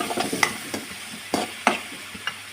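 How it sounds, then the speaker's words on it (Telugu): Chicken pulao frying in a pan on a low flame, with a soft steady sizzle broken by several sharp scrapes of a spoon stirring against the metal, close and alone without talk. "ఇప్పుడు ఇట్లా ఫ్రై అవుతుంది కదండి"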